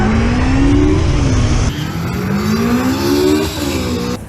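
Zero FX electric motorcycle pulling away hard, a loud rising electric whine climbing in pitch over a rushing roar of wind and road, easing briefly then rising again.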